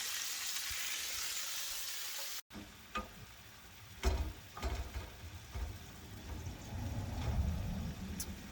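Vegetables and bean sprouts sautéing in a pan for a noodle dish, with a steady sizzle and fry and intermittent stirring scrapes and clicks, close and moderately loud.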